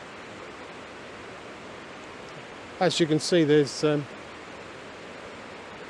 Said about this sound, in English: whirlpools created by the waterfall just further upstream